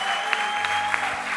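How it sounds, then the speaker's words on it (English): Church congregation at a Passover conference Saturday morning session clapping hands for Jesus, a steady wash of applause with a few sharper claps standing out, under a sustained tone at a moderate level. "Can we all clap our hands for Jesus?"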